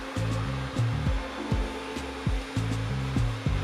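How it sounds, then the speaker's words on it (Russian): A Lenovo T1 robot vacuum cleaner runs through a cleaning cycle indoors, a steady loud motor whir with a rhythmic pattern of low tonal pulses and repeated soft knocks as it moves, continuous and close. "Пылесос начинает уборку."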